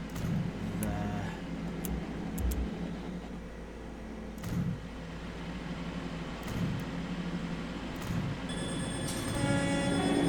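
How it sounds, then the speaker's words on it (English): A train rumbles along in the video game Transport Fever 2, a steady low mechanical drone with periodic clunks and light chimes, moderately loud and without speech. "so our Ormskirk train is putting along"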